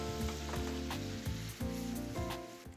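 Butter and meat juices sizzling in a steak pan, a close, continuous crackling fry with rhythmic bursts as the pan is stirred or spooned, no talking.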